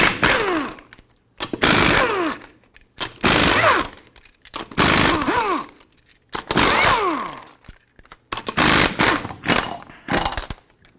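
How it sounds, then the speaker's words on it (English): A powered wrench with a 21mm socket removes the six wheel lug nuts on a 2005-2021 Nissan Frontier 4.0L V6. Loud, close rattling bursts, about seven of them, are separated by brief pauses. "Use a 21mm socket, remove all 6 of your lug nuts so we can then remove the wheel."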